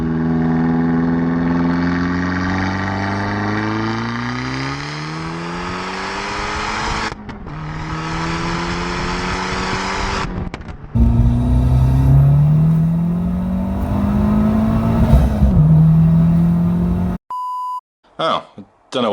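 A modified 225 bhp big-turbo Abarth 595 engine revs repeatedly, pitch climbing and dropping with each pull, loud and close, ending in a few electronic beeps.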